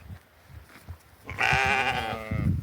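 A young ram on a farm bleats once, a loud, wavering, nasal cry lasting about a second after some quiet shuffling, with low farmyard rustle around it.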